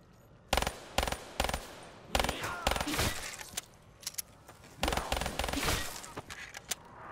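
Wall-bought guns fire in a zombies video game, loud close bursts of rapid shots in several volleys separated by short pauses, with game noise between them.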